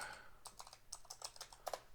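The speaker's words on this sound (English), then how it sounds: "I cannot type." Typing on a computer keyboard, a quick run of close, crisp key clicks in uneven bursts, fairly quiet, with no talking.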